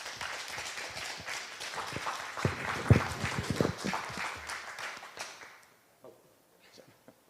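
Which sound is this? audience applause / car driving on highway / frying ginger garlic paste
audience applause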